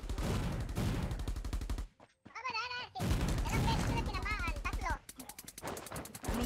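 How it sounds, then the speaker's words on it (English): Rapid bursts of automatic gunfire in the video game Rules of Survival rattle loudly, with a short break filled by electronic chirping tones, then the firing resumes and continues. "Gunshot, gunshot."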